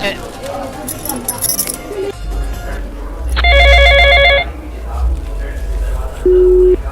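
A telephone rings in a loud, repeated electronic trill over a noisy background, followed later by a short steady tone.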